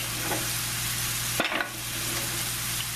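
Garlic and shallots sizzle softly in olive oil in a pan, a steady low frying hiss with a brief stir or clatter of a utensil midway, close and fairly quiet.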